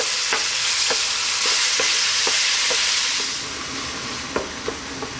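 Ground beef frying in a pan over medium heat, a steady loud sizzle with repeated scraping strokes of a utensil stirring the meat, no voices.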